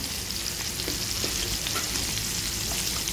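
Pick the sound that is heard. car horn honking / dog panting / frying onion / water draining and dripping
frying onion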